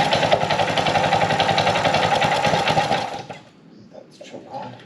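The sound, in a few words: Heathkit Hiltopper vintage mini bike engine pull-starting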